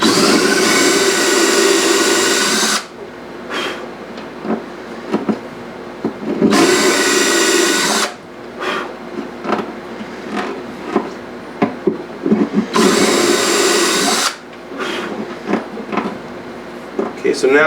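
A Dremel-type rotary power tool cuts into a guitar bridge in three loud, steady whining bursts of one to three seconds each, with a person talking in the pauses between them.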